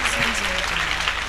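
An audience at a church award ceremony in Udaipur applauds as a guest is welcomed onto the stage, a short, continuous burst of clapping with a voice and some musical tones running underneath.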